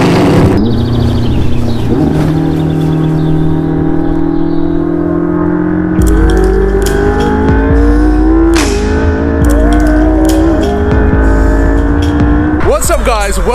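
Stock McLaren 675LT exhaust revving loud and close, with sustained rising and falling engine tones, sharp throttle blips and a crackling burst at the end, plus shouted voices over it.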